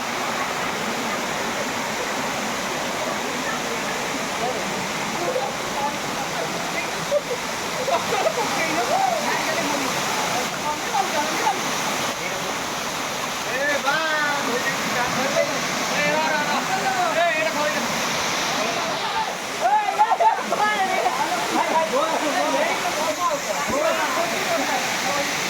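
The waterfall at Ashok Jhar roars steadily for the whole stretch, a dense, unbroken rush of falling water heard close up, with people talking faintly underneath.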